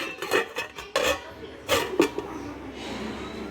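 A metal lid set down on a cooking pan while Kerala-style mixed upperi is made, giving a few clanks and rattles at close range followed by a quiet tail.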